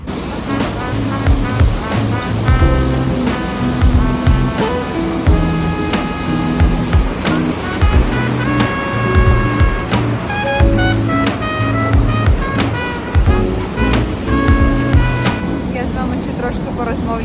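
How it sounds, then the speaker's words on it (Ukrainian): A tour boat's motor runs steadily while water churns along the hull on an evening Danube cruise past the Fisherman's Bastion in Budapest, a continuous roar of engine and splashing with a voice talking over it. "мотор працює, вода бурлить"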